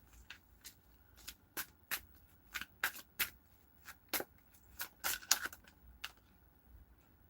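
Cards being shuffled in a quiet room, a series of crisp riffling bursts repeating at irregular intervals, close and fairly soft, with no talk.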